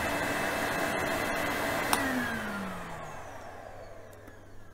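A Maki cordless hybrid vacuum cleaner runs at maximum power, a loud steady motor whine and airflow roar close by that holds level, then a pitch sweep as the motor tone shifts near the end.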